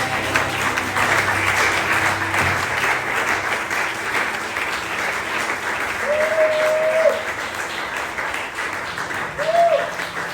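Applause from a church congregation, a sustained dense clapping across the whole stretch, with faint voices and a brief high tone mixed in.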